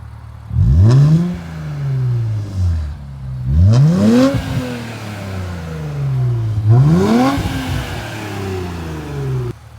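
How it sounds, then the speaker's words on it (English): An Infiniti Q50 with an MBRP exhaust and replaced downpipes is revved three times while stationary. Each blip rises sharply in pitch and falls back to a rumbling idle, loud and close, with no talking. "let's go ahead and here's just a few revs"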